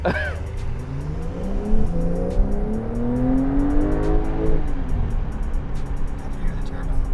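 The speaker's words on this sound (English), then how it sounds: "got a lot of shove from that 3-liter turbo" A 2020 Porsche 992 Carrera's 3-liter turbocharged engine with PDK transmission revving up through the gears, its pitch climbing steadily under road and wind noise, heard from inside the cabin.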